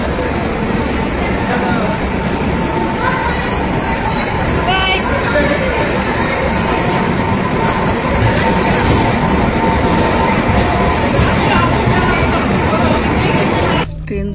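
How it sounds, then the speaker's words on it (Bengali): A train pulls away from a station platform with a loud, steady rumble that fills the whole stretch. People talk and a crowd murmurs over the noise. "ট্রেন দিল ছেড়ে"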